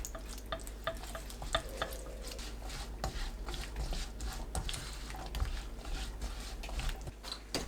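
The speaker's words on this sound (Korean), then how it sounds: "양념이 완두콩에 붙고 겉돌지 않을 때까지 볶아주세요" Green peas stir-fried in a pan with soybean paste, chili paste, garlic, soy sauce, mirin and syrup, giving a steady close scraping and stirring with soft frying crackle throughout and no talk.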